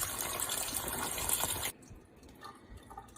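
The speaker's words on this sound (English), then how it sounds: "rinse it off with cold tap water." Cold tap water runs hard over a lump of homemade raw-milk butter, a steady loud gush that cuts off abruptly partway, leaving quieter dripping and handling sounds.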